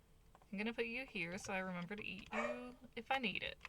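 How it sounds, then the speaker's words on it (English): A lively one-year-old dog barking and yipping in short, loud bursts close by, heard under a person talking over it. "my dog's barking"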